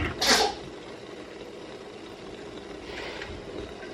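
A single quick sneeze near the start over a steady background hum, followed by a faint second burst of sound a few seconds later.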